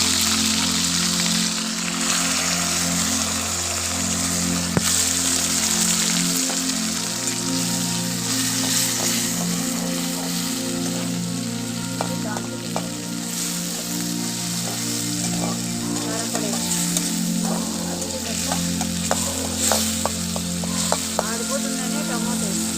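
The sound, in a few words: tomatoes, mustard seeds, cumin and curry leaves frying in oil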